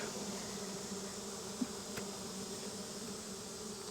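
Honeybees, drones among them, buzz steadily around an open hive during a hive check, a continuous close drone with one brief sharp knock partway through and no talking.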